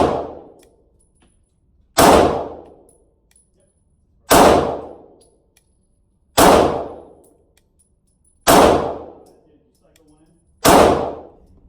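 A 9mm 1911 pistol firing at steel targets on a range: six sharp shots with ringing metallic decays, spaced about two seconds apart, loud and alone with no talk.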